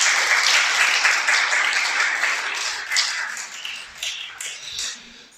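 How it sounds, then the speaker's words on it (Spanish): Applause from a congregation at a Spanish-language religious teaching, dense and loud from the start, then thinning and fading over about five seconds with a few scattered claps near the end. "Vamos a dar un aplauso al Creador."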